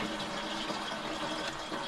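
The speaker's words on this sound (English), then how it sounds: "we're going to flush her out with the baking soda" Baking soda and soapy water sloshing through a rusty fuel tank as it is flushed out after a vinegar rust treatment, a steady rushing, gushing wash of liquid that stays even throughout.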